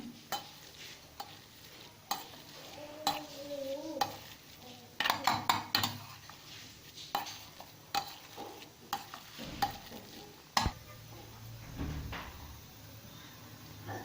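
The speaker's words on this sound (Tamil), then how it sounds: "இப்போ முள்ளங்கி சாப்பாடு எடுத்து நல்லா மசிச்சுக்குங்க." Cooked radish rice is mashed in a bowl for homemade baby food, with a spoon scraping and knocking in uneven, repeated strokes. Some taps are sharper, close up and fairly quiet, with no talking.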